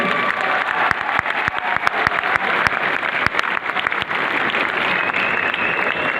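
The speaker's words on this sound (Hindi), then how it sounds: "ताली बनती है।" A large audience at an indoor event in Delhi applauds continuously, a loud, dense wash of clapping with sharp individual claps popping out close by throughout.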